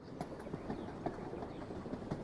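Train pulling into a station in the video game Short Trip, soft rhythmic clicking of wheels over rail joints, faint and steady with no voices.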